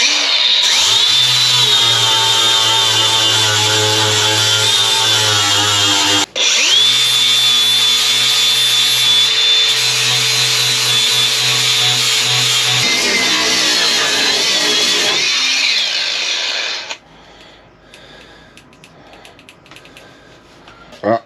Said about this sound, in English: We're gonna start grinding all these welds down